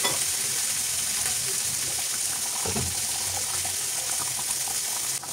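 Egg hari motor cooking in a pan: a steady, close sizzle of frying fills the stretch at an even level, with a brief stirring clatter midway and a louder scrape near the end.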